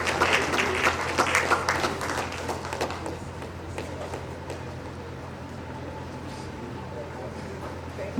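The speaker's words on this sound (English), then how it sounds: "Please a round of applause for her." A conference audience claps for an arriving speaker: dense, loud applause fills the first few seconds, then thins and fades into a low room murmur.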